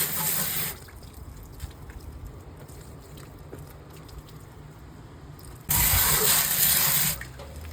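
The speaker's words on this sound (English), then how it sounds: "all we've got to do is hose this out" Water from a hose rinses out a jacketed cooking vessel in a commercial kitchen, a steady rushing spray with two louder, brighter bursts at the start and near the end, heard alone without talk.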